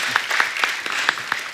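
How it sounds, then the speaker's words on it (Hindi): A studio audience at a comedy talk show breaks into lively applause, a steady patter of many hands clapping close and fairly loud for a short burst. "ताली हो जाए"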